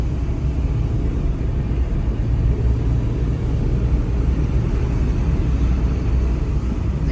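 Road traffic rolls past near Mannarkkad bridge, a steady low rumble of vehicles on the road that holds even and fairly loud throughout, and nobody speaks.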